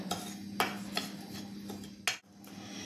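Semolina and red chili masala being stirred together in a bowl with a spoon, giving soft scraping and a few sharp clinks of metal against the bowl, close and fairly quiet.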